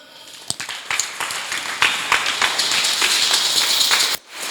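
Congregation in a church service applauding to acclaim Jesus Christ, a dense, steady wash of many hands clapping with scattered sharper claps, sustained for several seconds before cutting off briefly near the end.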